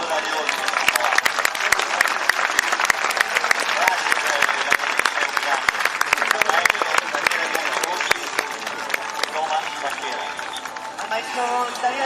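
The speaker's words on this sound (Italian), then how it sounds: "Maestro Daniele Pontirossi, l'applauso del pubblico di Sardegna Grande" Audience applause at a Sardinian horse show in Oristano, a dense sustained clapping from a crowd that runs throughout and eases slightly toward the end.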